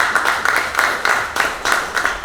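Applause from a church pastors' association general meeting in New Jersey, approving a vice-president election: steady, rhythmic clapping from a gathered crowd, moderately loud and continuous with pulsing swells.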